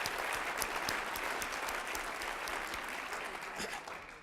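An audience applauds Carolyn Jones at a celebration event, with steady dense clapping from the start that sustains throughout and only slightly thins toward the end.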